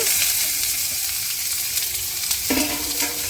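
Chopped onions and green chillies frying in a pan, a steady close sizzle with stirring scrapes, loud and continuous with no talk.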